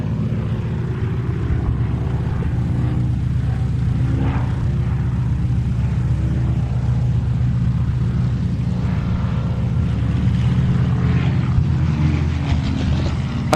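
A Packard-built Rolls-Royce Merlin 66 engine drives a Spitfire flying at an airshow, a steady, loud propeller drone with rising and falling engine tone throughout, no talking.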